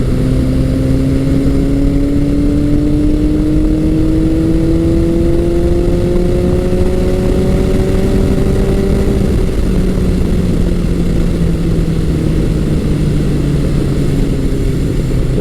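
A 1982 Suzuki GS1100G motorcycle engine pulling hard, its loud, smooth drone climbing steadily in pitch for several seconds, then easing off into a lower, steady hum, with continuous wind rush throughout.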